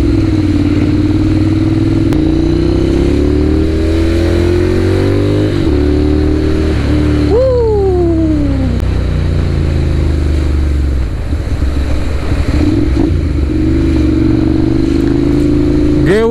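A Ducati Monster 795 motorcycle on the move, its engine droning loudly throughout, with pitch rising and falling through a rev and shift midway and wind noise over the ride.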